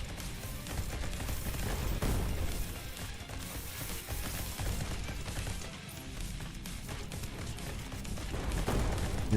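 Muffled explosions and crashing blasts in a first-person tower defense shooter, a dense, continuous din of booms and gunfire rolling on at moderate loudness without pause.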